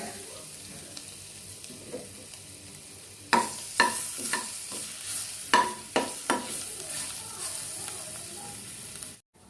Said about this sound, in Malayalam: നമുക്ക് ചൂടായ ഓയിലിലേക്ക് കറിവേപ്പിലയും ഇഞ്ചിയും ഇട്ട് ഫ്രൈ ചെയ്തെടുക്കാം